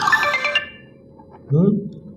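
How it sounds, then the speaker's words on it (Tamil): A short electronic phone ringtone melody chimes clearly at the start, then stops and is followed by a brief burst of nearby voice. "இருங்க, ஒரே ஒரு நிமிஷம், ஃபோன் வருது."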